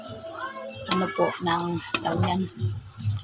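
Shrimp frying in a pan crackles and sizzles loudly up close while a utensil stirs them in repeated bursts of scraping and clatter.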